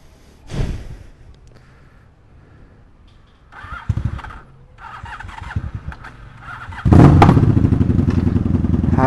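A 1984 Honda Magna 750cc V-twin motorcycle cranks with a few thumps and clatter, then catches and roars into loud, steady revving up close.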